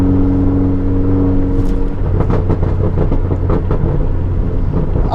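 MINI car driven around the Miriam Loop, a loud close engine drone with a steady low hum that shifts midway into rougher, pulsing revving and road rumble, with no voices.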